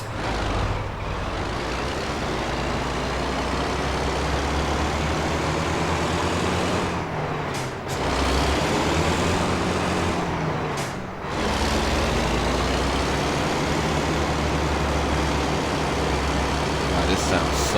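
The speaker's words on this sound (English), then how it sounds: "This sounds so much different than the other trucks I use on a single player mode." A heavy truck in American Truck Simulator, shifting through 18 gears, rumbles along with a steady low engine drone. Two brief dips mark gear changes, and a voice talks over the engine at times.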